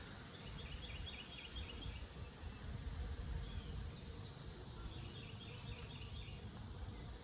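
Steady dense buzzing of many honey bees at an open hive, a continuous close drone filling the whole stretch with no talking.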